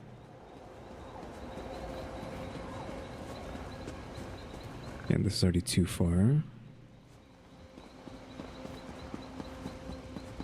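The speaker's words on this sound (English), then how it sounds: "Can't interact with the horse." Horse hooves clip-clopping in The Elder Scrolls video game, a short burst of quick rhythmic hoofbeats close by, rising out of low ambient game sound with a person talking.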